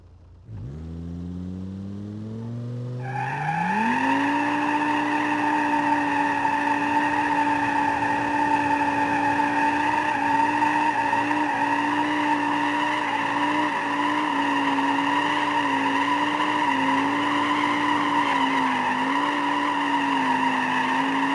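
An Audi Q7 with a 3.0L turbo petrol engine in BeamNG.Drive revs up hard and holds a loud, sustained engine drone while its wheels spin and squeal continuously for about twenty seconds.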